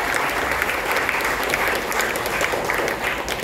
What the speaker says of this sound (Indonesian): Tepuk tangan dong buat mereka berdua.